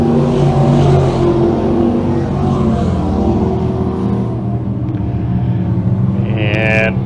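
602 crate sprint cars race at Can-Am Speedway in a feature event, their engines roaring loud and continuous with shifting pitch as the pack passes, heard with a commentator's voice over the track noise.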